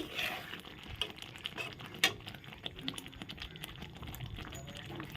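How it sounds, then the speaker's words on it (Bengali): Butter paneer masala with chopped coriander stirred in a pan: soft scraping and occasional clinks of a spoon against metal over a faint bubbling simmer, fairly quiet with one sharper knock. "এখন একটু নেড়ে নিচ্ছি"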